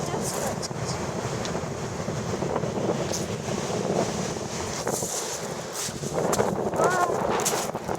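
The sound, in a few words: wind and waves on a beach in Turkey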